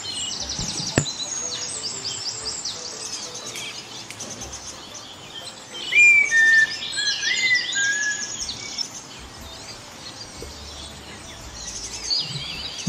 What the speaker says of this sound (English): The songs of the birds will forever be a reminder of the wonder and majesty of the natural world.